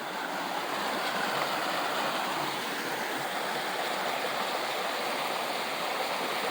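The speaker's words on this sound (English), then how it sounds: "Sweet little waterfall here." A small waterfall on the Appalachian Trail rushes in a steady, unbroken wash of white noise, close and fairly loud, with no voices over it.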